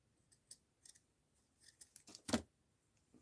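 Paper being trimmed with scissors during a mixed-media paper doll craft session: a few quiet snips early on, then a louder, longer cutting stroke near the end, close and alone with no talk.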